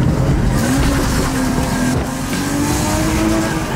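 A car accelerates hard and drives off, its loud, close engine roaring steadily for several seconds with a rising tone and no voices over it.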